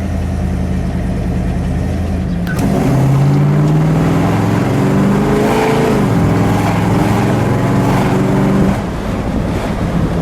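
A 1964 Ford Galaxie 500XL hardtop with a 390 engine pulls away and cruises, its loud, close engine drone rising and shifting in pitch beneath heavy wind rush.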